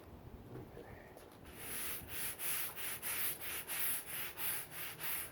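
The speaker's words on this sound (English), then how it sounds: "It says to brush vigorously." A stiff brush scrubs a concrete driveway coated with cleaner in steady, rhythmic back-and-forth strokes, fairly faint and close, after a quieter start.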